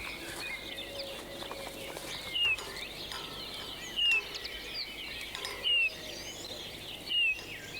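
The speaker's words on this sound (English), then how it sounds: "A tame male finch sings inside the cage in order to lure others of its kind inside the trap" A tame male finch calls from inside a decoy trap cage, giving four short, high chirps at regular intervals over quiet background ambience.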